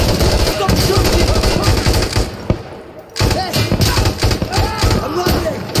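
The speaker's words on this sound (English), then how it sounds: "Stop shooting!" Dense automatic gunfire from a firefight in the video game Insurgency, with rapid overlapping bursts, a short lull in the middle, then more sustained shooting while voices shout over it.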